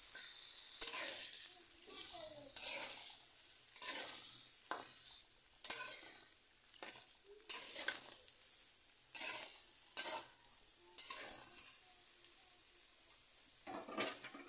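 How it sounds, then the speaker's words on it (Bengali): Chopped vegetables with spinach being stirred into hot oil, a crackling sizzle punctuated by repeated spatula scrapes and clatters against the pan, close and alone without voices. "সবজিগুলোকে এবার ভালো করে তেলের সাথে মিশিয়ে নিচ্ছি।"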